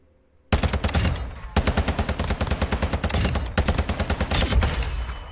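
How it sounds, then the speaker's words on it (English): An FN HAMR 7.62 rifle fires full auto in Call of Duty MWII, with three long rapid bursts of loud, evenly spaced shots separated by short pauses. "Let's go ahead and switch to full auto."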